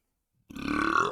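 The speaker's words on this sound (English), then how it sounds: "So far I've sneezed, I've yawned, and now I've burped." A single throaty burp, close and fairly loud, rises abruptly out of silence and rolls on for under a second with no other sound around it.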